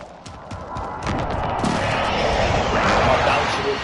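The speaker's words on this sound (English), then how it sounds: "Be advised, friendly precision airstrike inbound." Precision airstrike explosions in a combat video game: a rapid volley of booming blasts and crackling impacts that swells louder after the first second and rolls on continuously, with a voice speaking over the barrage.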